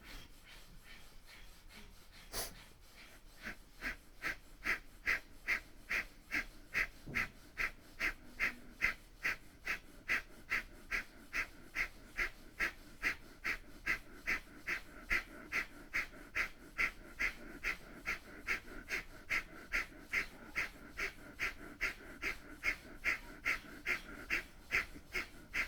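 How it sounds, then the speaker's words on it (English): Powerful rhythmic breathing in a live Kundalini yoga class, fast regular forceful breaths with sharp exhales, about two per second, sustained and close. "Powerful breathing"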